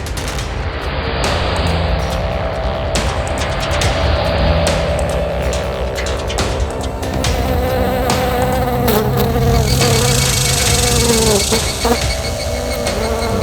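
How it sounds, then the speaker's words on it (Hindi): A housefly buzzing inside a car, a loud, close and constant droning hum that wavers in pitch as it moves, with dramatic background music and bursts of rattling sound effects underneath. "ये गाड़ी में मक्खी कहां से घुस गई?"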